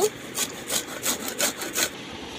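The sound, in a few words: grating the peel of a gondhoraj lemon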